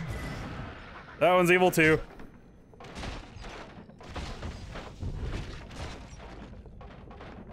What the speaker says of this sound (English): Explosions are great.